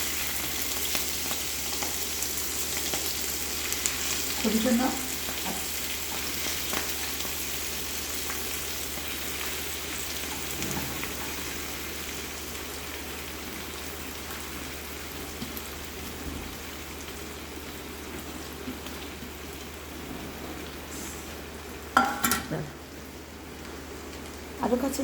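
Pui shak paturi, leaf parcels cooking in a wok, crackles and spits in a dense rain-like sizzle that continues steadily, with a few sharp clatters and brief talk in the background.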